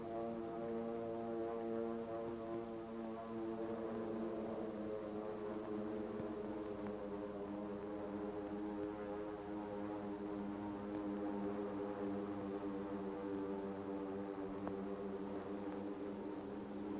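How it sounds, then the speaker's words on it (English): A steady, low droning hum of propeller aircraft over Pearl Harbor holds unbroken for the whole span, sounding distant and muffled with a layered tonal buzz and no speech. "the drone of planes was faintly heard"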